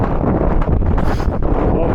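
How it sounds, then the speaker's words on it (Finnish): A strong gust of wind at Härmälä ravine in Masku, Finland, buffets the microphone with a loud, continuous roar and rustling, with no voices present. "Mahtaako äänestä kuulua mitään, kun tämmönen puhuri tulee?"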